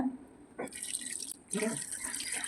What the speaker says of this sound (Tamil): இதுக்கு தேவையான அளவு தண்ணி சேர்த்துக்கலாம்